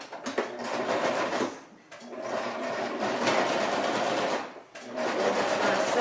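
A sewing machine stitches down the pinned seam of a decorative pillowcase in loud, close bursts of rapid whirring, with two short pauses between the runs.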